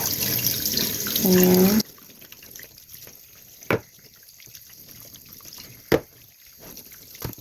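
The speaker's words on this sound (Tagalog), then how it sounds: "hugasan ko lang tong ribs" Pork ribs rinsed under a running kitchen tap, a steady gush of water that stops sharply partway through. A few clunks and clatters follow, and a voice speaks briefly.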